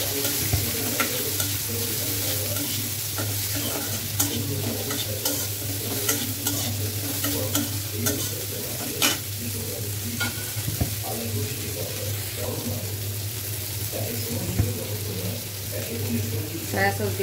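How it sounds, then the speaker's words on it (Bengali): Chicken and capsicum stir-fried for fried rice, a steady loud sizzle with repeated scraping stirs throughout, close up and continuous, with no talking. "এখন দিয়ে দিব এই যে চিকেন আর ক্যাপসিকাম।"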